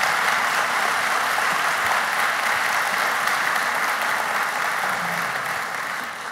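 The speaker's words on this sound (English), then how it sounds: "So please give Nat another round of applause." Audience applause at a talk on the science of storytelling: dense, steady clapping that fills the room for several seconds and eases off slightly at the end, with no talk over it.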